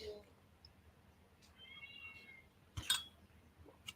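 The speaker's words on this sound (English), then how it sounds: "I hear the cat in the background." A cat, pregnant and close to having kittens, gives a faint, distant meow in the background of a quiet room, followed by a brief clink and some low rustling.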